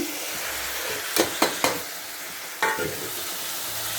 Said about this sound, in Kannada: ಈಗ ನಾನು ಇದಕ್ಕೆ ತರಕಾರಿಗಳನ್ನೆಲ್ಲ ಹಾಕ್ತಾಯಿದ್ದೀನಿ